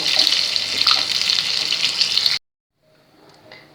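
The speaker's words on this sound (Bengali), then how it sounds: "মাছ আমার পুরো ভাজা হয়ে এসছে এবার এটা আমি তুলে নেব" Fish frying in a pan for a Bengali Kashmiri-style fish dish gives a steady, loud hiss and crackle of hot oil for about two seconds, then cuts off to near silence with faint clinks after.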